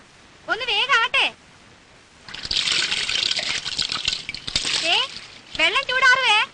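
Bath water splashing and sloshing in a steady wash of noise, loud and close, with voices talking before and after.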